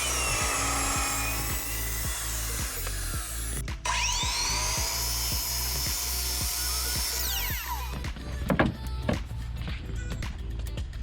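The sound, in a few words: power drill drilling holes in a Trex deck trim guide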